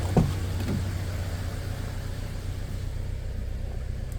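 A Toyota Fortuner engine with a misfire from rodent-chewed wiring gives a low, steady running rumble heard close up, with a couple of faint knocks right at the start and no rise in revs.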